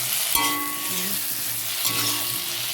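Tender young jackfruit, lightly boiled beforehand, hits a hot pan and sautés with a bright, continuous sizzle, punctuated by a few short metallic scrapes and clinks of a utensil against the pan.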